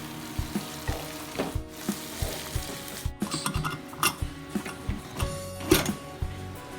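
A sauté with soy sauce, tomato sauce and vinegar for squid pasta, with rhythmic knocking and scraping of a spatula against the pan over a low sizzle, near and fairly loud, no speech.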